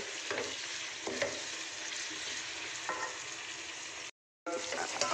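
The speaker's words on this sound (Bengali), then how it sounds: "আমরা অনেকটাই আদা রসুন পেস্টটা চালিয়ে নিয়েছি।" Ginger garlic paste sizzles in a pan for chicken biryani while a spoon stirs it, a steady close frying hiss with scraping strokes that is broken by one brief silent gap.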